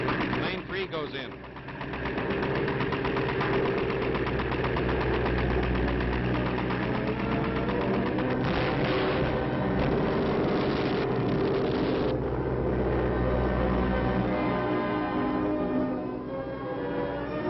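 A WWII Black Cat flying boat engine drones steadily through an attack run in 1943 Pacific combat footage, a continuous loud mechanical roar with a rhythmic pulse that rises in intensity midway.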